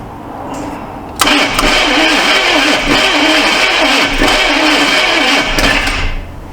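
A neglected 1982 Chevy Silverado C10 engine cranks briefly and then fires, jumping to a loud, rough running roar that holds for several seconds before dropping off near the end.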